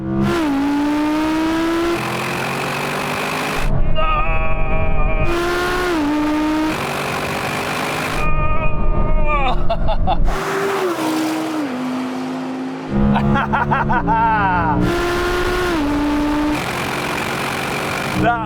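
An Audi RS6 GT and an R8 GT roar off the line together, their engines revving hard through repeated rising gear pulls with brief gaps at shifts and some tire noise, heard close and loud without voices.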